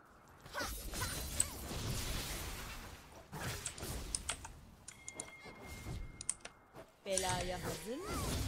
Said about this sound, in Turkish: Klavye mouse sesleri dışında.